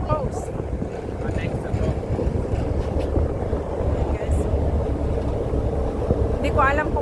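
Strong gusting wind buffets the microphone throughout a harbour boat ride, a constant rumbling roar with the boat's drone underneath and a few faint voices in the background.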